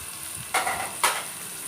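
Onion sautéing in melted butter keeps up a continuous soft sizzle, broken by two brief scraping stirs of a utensil in the pan.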